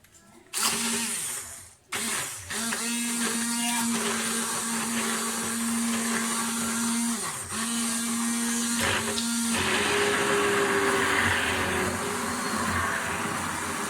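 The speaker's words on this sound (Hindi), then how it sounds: "ब्लेंडर के साथ इसको आपस में बिल्कुल यकजान कर दूँगी।" A blender whirs loudly and steadily through a batter of meat, porridge grains and rice for hareesa, with a brief start-stop near the beginning, then runs continuously with a slight shift in pitch toward the end.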